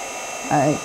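A heat embossing tool blows hot air in a steady whooshing hum while inking with an opaque pigment pad, with a brief voice over it.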